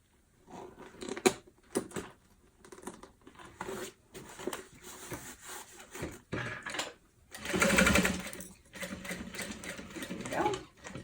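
A domestic sewing machine stitches fabric for a bowler bag in short stop-start bursts, with one longer run midway, interrupted by handling sounds close by.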